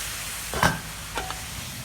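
Chilies are stir-fried with sunflower sprouts in a pan, a soft continuous sizzle broken by a couple of brief scraping stirs, close and fairly quiet.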